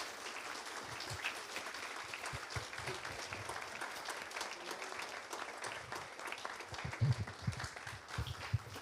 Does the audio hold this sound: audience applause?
yes